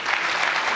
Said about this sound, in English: deserves that round of applause